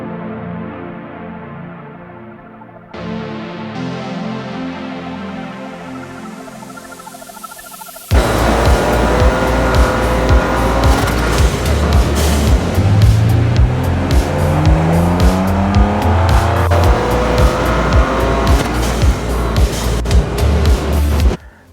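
A Ford Ranger Raptor fitted with a twin air intake drives loud and close, its engine roaring steadily with tyre noise and a brief squeal, after a quieter opening stretch.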